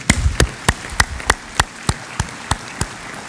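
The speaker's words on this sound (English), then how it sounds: "please give a round of applause, a very warm one for my speakers" At a world coffee conference opening ceremony, about a dozen evenly spaced claps ring out one after another, sharp and close, gradually growing softer toward the end.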